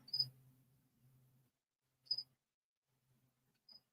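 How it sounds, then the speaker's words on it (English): Crickets chirp faintly at night in the background, a few sharp isolated chirps spaced apart, with a low murmur underneath and no voices. "that's crickets you hear in the background"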